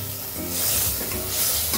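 Garlic frying in olive oil in a pan, a soft steady sizzle with light stirring scrapes, close and quiet.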